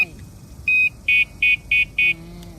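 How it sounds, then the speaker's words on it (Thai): Five short electronic horn beeps in quick rhythm from an electric bicycle, loud and close, preceded by one longer tone and followed by a low hum. "และมีเสียงแตรให้ด้วย"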